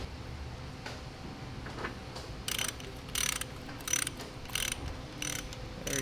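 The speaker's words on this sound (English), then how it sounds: "Let's undo these bolts" Wrench bolts being undone on the brake drum of a StuG III Ausf. G tank under restoration: a run of about six sharp, evenly spaced ratcheting bursts, close and fairly loud over a low workshop hum.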